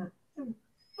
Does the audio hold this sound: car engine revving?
no